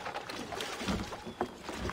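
Oars splash and knock against a small rowing boat in the video game Assassin's Creed III, with water sloshing in irregular strokes over a steady low rumble.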